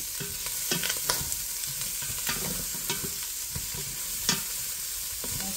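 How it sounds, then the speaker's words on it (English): Garlic and onion sizzle and fry in a pan with pig tails, no added oil, for collard greens with coconut milk; a steady close hiss runs throughout, broken by scattered scraping stirs and clinks. "I'm gonna let that garlic and onion cook, guys."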